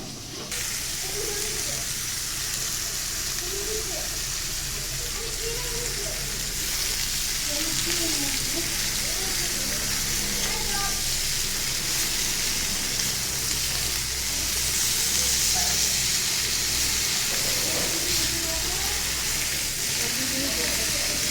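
Bitter gourd frying in a pan gives a steady, close sizzle with faint stirring for about twenty seconds, the hiss holding fairly constant and swelling slightly toward the end.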